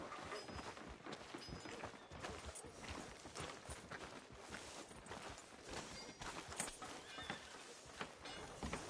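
Horse walking in Red Dead Redemption 2, its hoof clip-clops and an occasional whinny running steadily under a dense in-game ambience.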